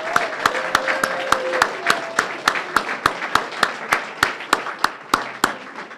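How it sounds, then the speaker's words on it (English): Audience applause at a street redevelopment launch event, a steady round of hand clapping with sharp individual claps standing out up close, lasting the full stretch with a faint voice briefly underneath. "Please, a warm round of applause for these folks."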